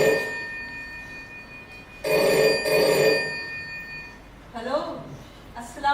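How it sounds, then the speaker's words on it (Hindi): A telephone rings with a steady electronic tone and bright harmonics, in two bursts, while voices talk softly over and after it. "फिर एक दिन कमाल साहब की सेक्रेटरी बाकर अली का फोन आया।"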